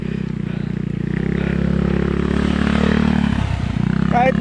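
A motorcycle engine labours up a steep uphill track, its loud, steady low drone pulsing continuously and dipping briefly near the end, with a faint voice at the very close.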